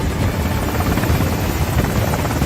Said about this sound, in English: Langston rushes to a helicopter with Carla and David already inside